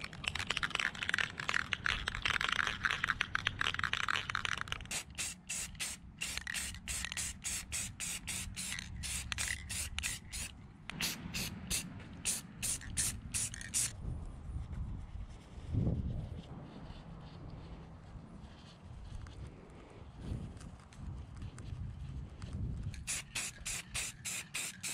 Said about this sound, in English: I think I want to spray these chrome rings first.